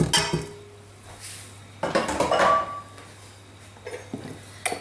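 Butter and dark brown sugar are stirred together in a mixing bowl for Christmas gift cakes, with clinks and scrapes of utensil on bowl in uneven bursts over a steady low hum, close and moderately loud.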